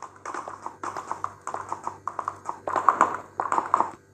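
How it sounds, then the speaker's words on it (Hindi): Horse hooves clip-clop at a steady trotting rhythm while riding in the Ertugrul Ghazi video game, close and clear with a faint background hum. "आज हम घोड़े में सवार हो गए हैं और यहाँ से आगे जाएंगे"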